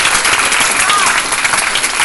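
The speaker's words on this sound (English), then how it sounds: "Let's give this number another round of applause." A large audience of school groups claps loudly and continuously at a live astronaut event, a dense, steady wash of applause with crowd noise mixed in throughout.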